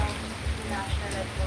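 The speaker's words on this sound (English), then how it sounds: "Still raining." Steady rain pours down in the Philippines, a dense constant hiss of falling water with low muffled background sounds underneath.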